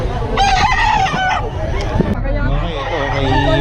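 Roosters crow repeatedly at a crowded gamefowl market in Bocaue, their calls overlapping amid a steady hubbub of people talking nearby.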